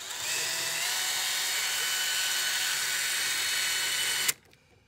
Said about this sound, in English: let's see if I can hold this and drill at the same time.